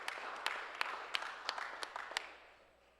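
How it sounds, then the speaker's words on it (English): An audience applauds at a certificate presentation, a steady wash of clapping with sharp individual claps standing out, tapering off toward the end. "Brandon C. Terlahi, give him a round of applause."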